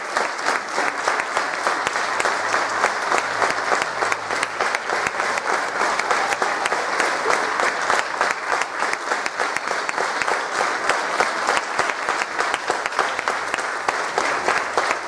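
A standing audience at a town festival proclamation reading in Puntallana claps long and loudly, a dense, steady roar of many hands that holds without pause.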